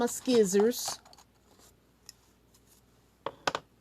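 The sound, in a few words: scissors cutting a paper pocket card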